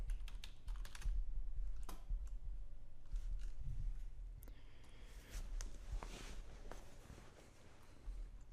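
Someone types on a computer keyboard, fast, close-up key clicks in irregular bursts with short pauses, quiet and with no talk.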